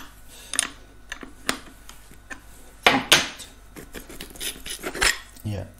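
Metal tool clinks and scrapes while a 13 mm nut is undone on the seat post of an Engwe EP-2 e-bike, with sharp clicks and ratcheting taps scattered irregularly and close by, no talking.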